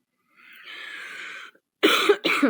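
A breathy rasp gives way to two sharp, harsh coughs in quick succession, close and fairly loud.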